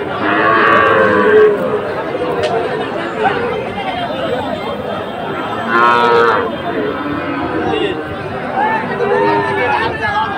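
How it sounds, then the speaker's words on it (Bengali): Sahiwal breed bull calves moo loudly at a cattle market, several drawn-out calls rising over a steady babble of people talking and bargaining nearby. "শাহিওয়াল জাতের ষাঁড় বাচ্চা আমরা দেখছিলাম।"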